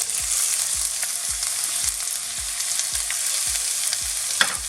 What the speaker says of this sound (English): so I'm gonna add the onions